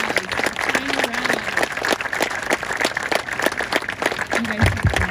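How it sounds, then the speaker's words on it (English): An audience at a 5th-grade graduation ceremony gives the class finalists scattered, moderate applause, with individual claps audible throughout and a voice briefly heard near the end. "Let's give them all a round of applause"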